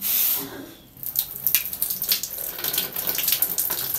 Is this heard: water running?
yes